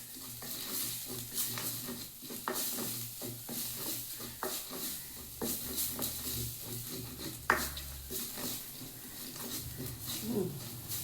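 Turmeric powder fries in hot oil in a pan for buttermilk curry, a steady close sizzle under repeated stirring and scraping with occasional clinks of utensils against the pan, without talk.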